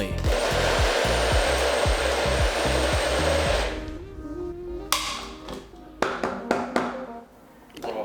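A NutriBullet blender mixes a protein shake, first a few short motor pulses, then a sustained loud whine that runs for several seconds before cutting off, followed by scattered knocks and clatter.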